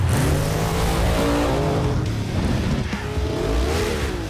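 Dune buggies race across desert terrain, engines revving hard and loud with a steady roar and shifting pitch, close by, with no voices.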